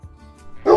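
A single short dog bark or yip bursts out at the end after a quiet moment, close and fairly loud.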